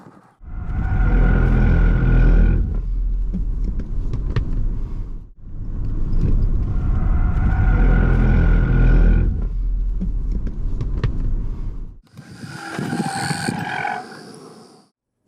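A Genesis GV60 pushed into deliberate understeer by a professional driver on a test course: a loud, sustained rumble of tyres and motion in two long sweeps, then a shorter, higher-pitched squeal at the end.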